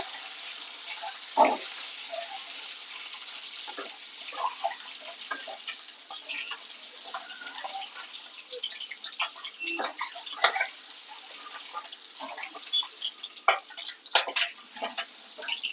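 Eggs fry in hot oil for an egg gravy, crackling and popping in irregular bursts close by over a soft hiss, with occasional watery stirring sounds and no talking.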